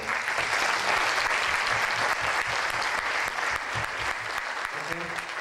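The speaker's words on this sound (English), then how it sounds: "I would invite you to thank these people and give an applause." A conference audience applauds, with dense, sustained clapping filling the room at a steady, loud level throughout.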